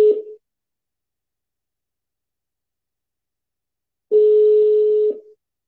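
A telephone gives a short tone, goes quiet for several seconds, then sounds a steady tone of about a second while a call is placed, with faint clicks near its end. The tones are loud and clear with no speech.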